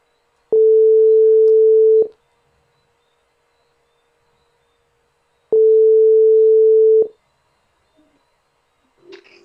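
A telephone ringback tone while placing a call: two long steady beeps about three seconds apart, loud and clean, followed by faint clicks and a brief noise as the line picks up.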